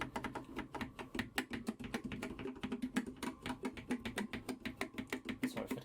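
Rapid, steady clatter of a computer keyboard during Apple IIe gameplay, many close crisp keystrokes in an uneven rhythm with no voices.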